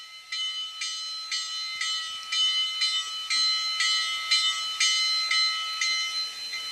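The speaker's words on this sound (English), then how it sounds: "Here's F1, which is the bell." The bell of an HO scale Rivarossi Allegheny 2-6-6-6 steam locomotive model, played through an ESU LokSound decoder, rings steadily about twelve times in an even, metallic rhythm, bright and alone without speech.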